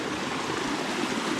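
A waterfall in the Munnar tea hills of India, heard as a steady, close rushing hiss of falling water, even and unbroken throughout.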